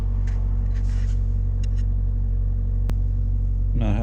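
The Ecotec engine of a 2014 Chevy Volt with a secondary ignition misfire, heard close up as a steady low rumble with a brief rising rev at the end.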